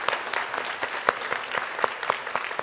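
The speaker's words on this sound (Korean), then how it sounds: "잠깐 일어서시면 박수로 환영하도록 하겠습니다" A church congregation at a Sunday service applauding to welcome a newcomer, a short burst of scattered clapping from a moderate-sized group with distinct individual claps.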